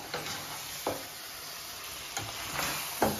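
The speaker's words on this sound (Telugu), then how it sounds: "పెరుగు వేసాను కాబట్టి ఒకసారి తిప్పుతా ఉన్నాను. ఫ్రై అవుతా ఉంది కదండి." Chicken with a few spoons of yogurt fries in a pan under a soft steady sizzle, broken by three or four scraping stirs of a spoon close by, with no talking.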